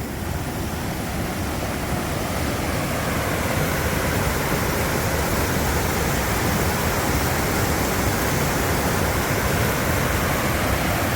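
Stream water rushing steadily at a hiking trail crossing, a loud, continuous broadband roar of flowing water with no pauses and no voices.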